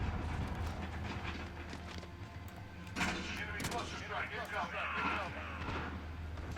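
Video game gunfire from Modern Warfare: repeated rifle shots and bursts crackle through continuous battle noise, growing louder and denser midway, with a voice talking over the action.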